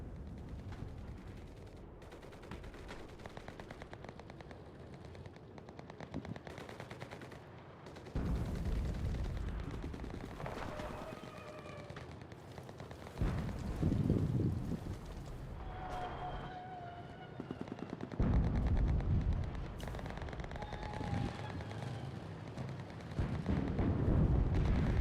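Artillery and gunfire in a video game: repeated heavy blasts and rumbling impacts come at uneven intervals over a long stretch, mixed with sharper shots and a steady background din.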